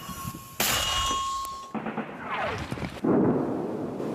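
A loud sharp blast from a mortar firing, followed by a ringing metallic clang and a second heavy report a few seconds later.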